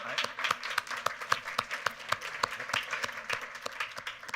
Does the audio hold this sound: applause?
yes